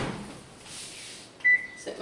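An oven door shuts with a soft thump in a home kitchen as braided strudel dough is set inside to rise, followed by a short electronic beep from the appliance.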